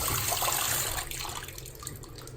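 Hot water runs from a bathroom sink tap in a steady rushing stream that eases slightly partway through, close and alone.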